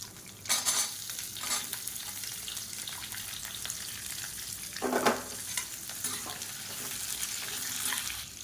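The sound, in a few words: sliced onions frying in oil with chana dal and urad dal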